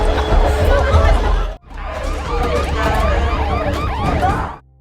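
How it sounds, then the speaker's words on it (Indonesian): A fire alarm rings in a hotel scene of a thriller film, a loud continuous shrill tone with a brief cut midway, heard over dense background noise. "tiba-tiba aja alarm kebakaran berbunyi"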